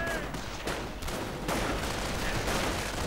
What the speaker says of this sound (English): Quite a bit of automatic fire being directed against them